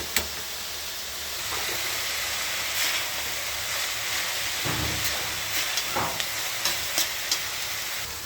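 Pan-fried tol sizzling steadily with a soft, continuous hiss, with a few light clicks and taps of stirring toward the end.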